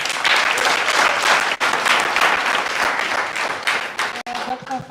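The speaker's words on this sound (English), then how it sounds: "can you please give Dr. Fafa another round of applause?" A crowd applauds at a farmers day event, loud sustained clapping filling nearly the whole stretch before thinning near the end as a voice begins to speak.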